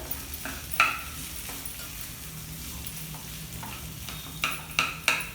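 Crumbled boiled potatoes for samosa filling are stirred and mixed, soft scraping and a few sharp clinks of a spoon against the bowl, close and quiet with no talk.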